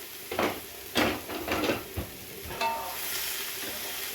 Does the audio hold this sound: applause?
no